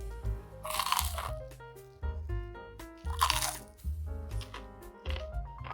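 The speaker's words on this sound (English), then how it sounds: "I'm going to take a bite." Crisp crunching bites into a Shanghai butter rice cake with a crispy buttery crust and chewy inside, several loud close crunches in quick succession followed by chewing.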